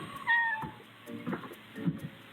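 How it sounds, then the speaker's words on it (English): A cat meows at a door in a few separate, fairly faint cries with short pauses between them, heard alone in a quiet room. "your cat is just staring at the door and meowing for no reason"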